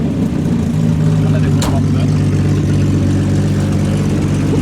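A car engine running loud with the exhaust back box removed, a steady low rumbling drone throughout, with people talking over it.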